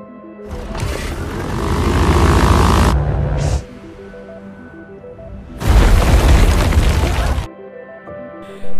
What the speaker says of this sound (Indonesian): pesawat yang ditumpangi mereka mengalami kerusakan mesin dan harus mendarat secara mendadak